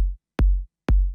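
Unprocessed kick drum hitting three times in an even rhythm, each a deep thump with a brief tail, loud and alone.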